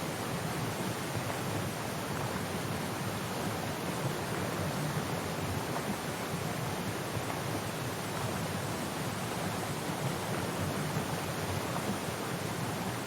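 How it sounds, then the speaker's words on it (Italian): A waterfall in the video game Syberia: The World Before roars as a steady, even wash of broadband rushing water, constant and unbroken for the whole stretch with no voices or music on top. "Bella la cascata, eh?"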